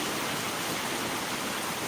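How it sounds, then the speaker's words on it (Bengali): Light drizzling rain falls outdoors after a heavier shower, a steady dense hiss throughout with no distinct drops or other sounds. "ঝিরিঝিরি বৃষ্টি হচ্ছে"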